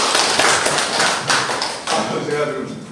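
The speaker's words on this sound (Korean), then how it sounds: "우리님의 박수로 보내줍시다." An audience at a bereaved families' association gathering claps together, a dense, steady round of applause at close range, with voices mixed in and a few stronger thumps and taps.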